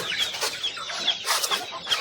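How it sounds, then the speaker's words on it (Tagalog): Several backyard chickens cluck and chatter close by in short, repeated calls. "Pagkain tayo sa ating mga alagang manok, mga backyard."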